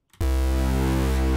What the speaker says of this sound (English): you could have a bass sound that sounds like this